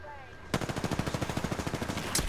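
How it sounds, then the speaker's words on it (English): Rapid automatic gunfire fired at the player in a video game: a sudden loud burst of evenly spaced shots in quick succession, running continuously for about two seconds. "Got more shots fired on me."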